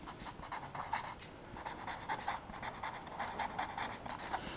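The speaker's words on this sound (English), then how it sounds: "So we will write here fixed end moments." Someone writes fixed end moments on a board or paper. The pen or chalk gives off soft, steady scratching strokes in short bursts, faint and close over a hushed room background.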